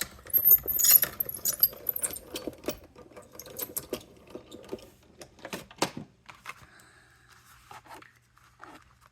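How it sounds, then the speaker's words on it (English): A die-cutting machine grinds and clatters as it presses card pieces through, loud and busy at first, then a series of sharp mechanical knocks and rattles fading into quieter scattered clicks, with no talking. "This is probably one of the reasons my Marquita is grinding."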